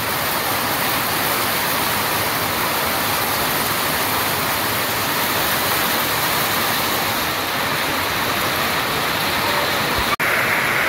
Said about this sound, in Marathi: असा भयंकर पाऊस चालू झाला.